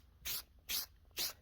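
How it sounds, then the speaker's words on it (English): Three short hissing bursts of a spray can, evenly spaced, close and fairly quiet, with brief silences between them. "now I'm applying the first coat of spray paint"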